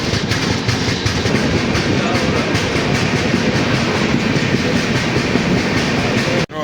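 A train rolls through Vapi railway station with a loud, continuous rumble and rhythmic clickety-clack of wheels over rail joints, close by and steady, before cutting off abruptly at the very end.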